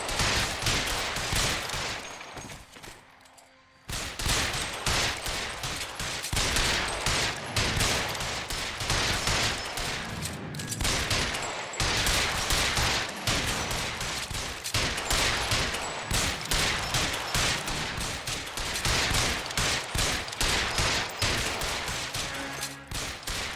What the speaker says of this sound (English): I'm giving this man headshots.